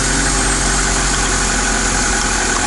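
A KAMAZ truck diesel engine running at idle in cold conditions, a loud, dense, continuous rumble recorded up close without any pause.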